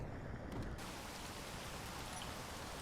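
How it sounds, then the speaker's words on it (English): Rain falling on a buggy near a base in the video game Space Engineers, a steady dense hiss of faint, even rainfall with no distinct drops standing out. "as the rain comes down on us on our buggy that we've brought back to base"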